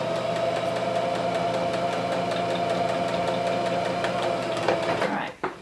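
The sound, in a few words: sewing machine stitching wrist wrap fabric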